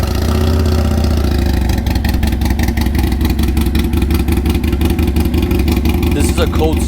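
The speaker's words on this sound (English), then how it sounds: "turn it on for you and let you guys hear how the exhaust sounds like now without the leak" A Harley-Davidson Sportster Iron 883 fires up from a cold start with its repaired exhaust, settling into a loud, steady throbbing idle with a rapid pulsing beat that continues throughout.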